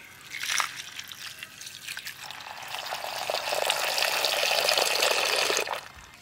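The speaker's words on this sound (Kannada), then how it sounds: "ಹಾಗೆ ನೀರು ಹಾಕ್ತಿದ್ದೇನೆ." Water pours over neem and tulsi leaves to rinse off dust: a splashing gush begins near the start, briefly eases, then swells into a sustained, fairly close pour before cutting off at the end.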